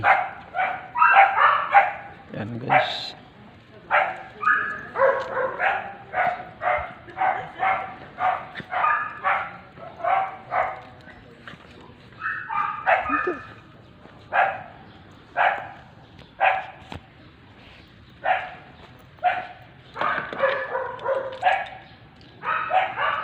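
Dogs bark repeatedly and steadily while being walked, a long series of sharp, fairly close barks with occasional yips and whimpers, and a person talks briefly over them.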